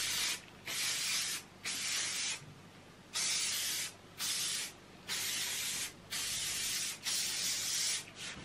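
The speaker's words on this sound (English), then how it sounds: "We're gonna use some hairspray." Aerosol hairspray misted onto curled hair in about eight short bursts of steady hissing spray separated by brief pauses, close and fairly loud with no talking.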